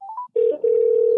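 A telephone line produces a few short rising dialing beeps, a brief gap, then a loud, steady tone that holds to the end, with no talking.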